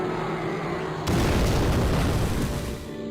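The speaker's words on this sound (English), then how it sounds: "when he explodes, there's an explosion that's supposed to pop up near to the right where that ramp is" A sudden loud boom from an explosion in a Turok 3 cutscene bursts in after a quieter stretch, followed by a dense, rumbling roar of debris that stays loud before slowly easing off.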